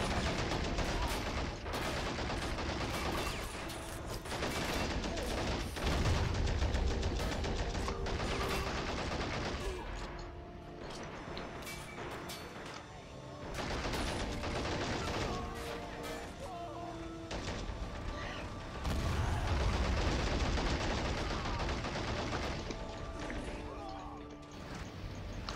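Battle gunfire in Men of War Assault Squad 2, dense rifle and machine-gun bursts crackling almost without pause, mixed with crashes and impacts, loud throughout with voices talking over parts of it.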